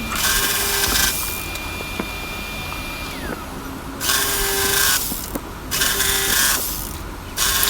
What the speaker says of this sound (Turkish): Böyle küçük parçalar dekupajla kesmeye karar verdim.